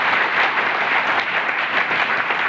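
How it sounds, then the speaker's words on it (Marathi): Audience applause welcoming new guests at a business gathering, a dense steady patter of many hands clapping continuously at moderate loudness with no talk over it. "या नवीन पाहुण्याचं आपण परत एकदा जोरदार टाळ्यानं स्वागत करूया"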